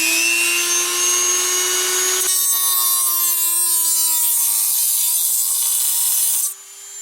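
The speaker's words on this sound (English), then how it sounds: "You need a Dremel tool with a cutting disc" A Dremel rotary tool fitted with a cutting disc cuts into a Lee bullet feeder, a loud high-pitched whine that shifts pitch as the disc bites and grinds against the part, then eases off near the end.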